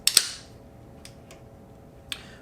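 A can being opened: one sharp crack with a brief burst of hiss near the start, followed by a few faint, scattered clicks in a quiet room.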